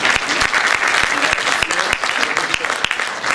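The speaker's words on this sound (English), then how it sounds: "Another round of applause for Josh." Audience applause at the Disney New York Toy Fair 2014 event, a dense, steady clapping from a nearby crowd lasting throughout, with some voices mixed in.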